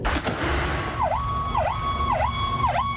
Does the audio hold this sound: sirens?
yes